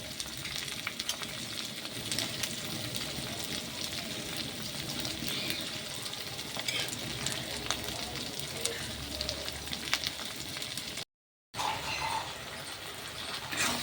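Onions and spices frying in a pan during home cooking, a continuous soft sizzle with faint stirring scrapes throughout, briefly cut out near the end.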